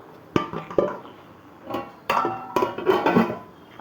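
Pots and dishes being put away in a kitchen cupboard: a few close metallic clinks and clatters spread across a few seconds, with no talking.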